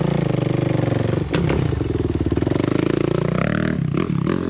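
Dirt bike engine firing and running loud and close after a kick-start during backflip practice, with a steady rapid throb, a brief clattering jolt midway, and the revs rising and wavering toward the end.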